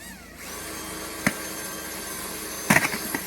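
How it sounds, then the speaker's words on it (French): Power drill boring holes into an off-road trailer's roof rack, a continuous motor whine running under a couple of sharp metallic knocks and clatters near the end. "Nous allons commencer à percer la galerie pour y fixer ces appliques-là"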